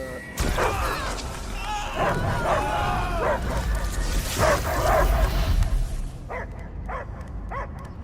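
Dogs barking and yipping in the Guardians of the Galaxy video game, several rapid barks over game noise and music, then a few spaced yelps alone near the end.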